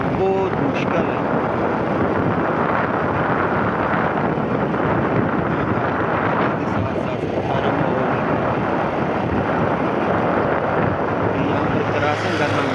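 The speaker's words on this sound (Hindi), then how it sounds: "यहाँ पर एक हाथ से मोटरसाइकिल चलाना बहुत मुश्किल है।" Motorcycle ridden along a rough gravel road, engine drone buried under loud, constant wind buffeting on the microphone, with a voice speaking over the steady roar.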